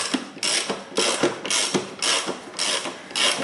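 Ratchet tool clicking in rapid bursts while loosening a bolt on a front-wheel-drive car's hand brake assembly, about six or seven ratcheting strokes in a steady rhythm, close and fairly loud with no talk.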